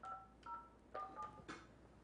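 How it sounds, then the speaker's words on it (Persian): Telephone keypad dialing tones, several short electronic beeps in quick uneven succession, faint and alone without voices. "خب بذارید تلفنی میگیرم دیگه"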